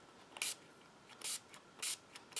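Short bursts of hissing release spray into a soap mold, four quick spritzes spaced about half a second apart, with faint clicks between them, fairly quiet.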